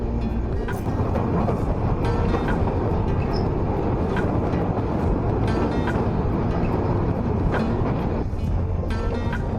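A passenger train racing at speed over the Kolaghat bridge toward Kolaghat station and Kharagpur gives a steady, loud, dense rumble throughout, with faint scattered squeaks and clicks over the continuous roar.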